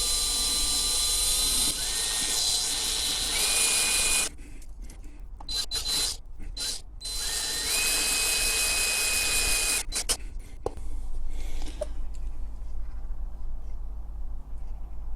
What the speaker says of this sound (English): First job, drilling it out. As before, start nice and slow.